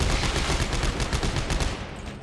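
Rapid gunfire from a weapon in the sci-fi horror video game Dead Space 3, a dense burst of repeated shots with loud crackling reports throughout, close and without talk.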